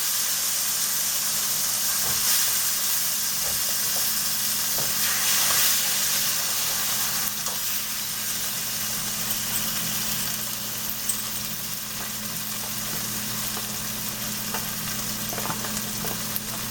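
Chopped tomatoes for a green bean curry sizzle and hiss steadily in a hot pan, with occasional soft stirring, and a low hum runs through the whole stretch. The sound is close and continuous, with no talking.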